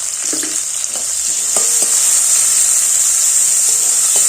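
Savoury snacks fry in a small amount of oil, giving a loud, bright, continuous sizzle close up with a few scraping stirs and clicks near the start, no one speaking.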